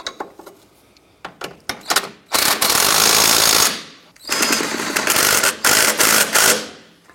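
A ratchet or power tool snugs down the lower and upper clevis fork bolts on a vehicle's steering knuckle, with a few quick clicks followed by two long, loud rattling bursts, heard up close.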